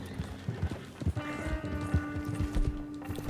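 Horse hooves clip-clop at a steady walking pace as a horse-drawn wagon rolls along in Red Dead Redemption 2, with a sustained tonal hum from the game audio running under the hoofbeats.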